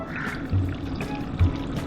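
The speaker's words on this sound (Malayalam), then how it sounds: "ഇതിൽ കുറച്ച് വെള്ളം ഒഴിച്ച് കൊടുക്കാം കേട്ടോ." Water pours into a cooking pot of mackerel in short splashy bursts, close by, with low sloshing thuds and a faint background hum.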